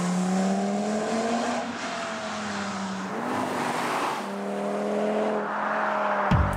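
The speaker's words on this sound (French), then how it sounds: "libère l'échappement pour un son encore plus grave et plus présent" A roadster sports car with its exhaust opened in S mode roars loudly and close, pitch rising and dipping through several gear changes, with a deep rumble under the whine and a sharp thump at the very end.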